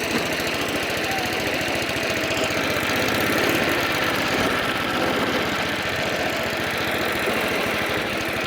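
Vintage cylinder lawn mower engine ticking over slowly, a steady low thumping beat with rattling mechanical noise, close and unbroken, swelling slightly midway.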